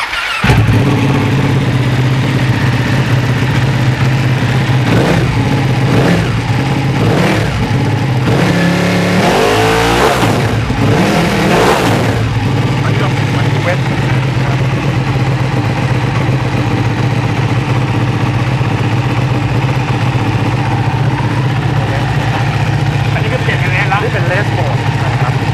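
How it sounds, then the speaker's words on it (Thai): A Speed Rider B motorcycle engine starts and revs in wet-weather mode, repeated throttle blips rising over a steady idle, loud and close, with people talking over it. "เดี๋ยวเราจะลองสตาร์ทเครื่องเริ่มจากโหมดเวท"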